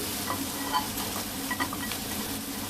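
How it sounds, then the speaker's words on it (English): Onion frying in a pan for a Punjabi chicken curry gives a steady, close sizzle. It carries on evenly with small crackles and pops, and no voice is heard over it. "So meanwhile this I'm frying the onion."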